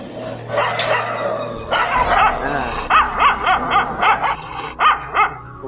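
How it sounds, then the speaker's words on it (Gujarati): A big dog barks repeatedly, a run of loud, close barks in a steady rhythm after a brief whimpering start. "મોટો કૂતરો છે યાર"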